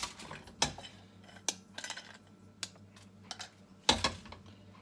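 Metal saucepan knocked and handled on a kitchen counter as chocolate is added, giving several sharp clanks and a few lighter clinks and taps spread across the moment, fairly close, with no talking.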